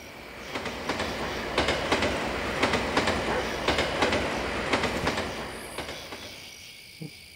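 A train rolls past in the video game Yomawari: Night Alone, a steady rumble with rhythmic clickety-clack wheel beats that fade toward the end; no talking.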